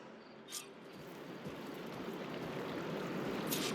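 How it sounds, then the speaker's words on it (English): Water runs steadily inside a room in the game Horizon Forbidden West, a faint, even rush that swells slightly over time, with a couple of brief clicks; no voices. "Aloy, I can hear water in the room again"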